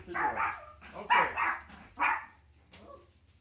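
A dog gives three or four loud, sharp barks in quick succession, followed by a fainter yip, with short quiet gaps between them.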